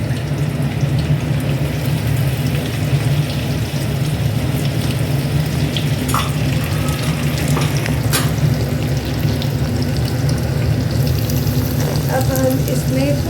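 Garlic and ginger fry in a pan over cumin with a loud, continuous close sizzle, and scattered scrapes and clinks from stirring come through it.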